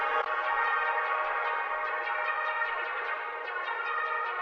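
Sustained, washy dubstep synth pads with heavy reverb hold a dense chord, swelling slightly and pulsing faintly, with no voices.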